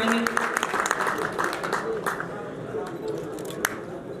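Light, scattered clapping rises from a crowd at a farmers' fair in Shamgarh, sparse and uneven rather than a full ovation, with a voice speaking over it.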